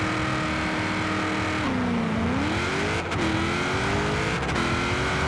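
A Ford Boss 302 with a drag tune in Forza Horizon 4 accelerates hard, its loud engine pitch rising, dropping briefly at each gear change, then climbing again.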